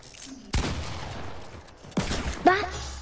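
Revolver gunshots in a video game: two sharp, loud cracks about a second and a half apart, with lighter game effects between them.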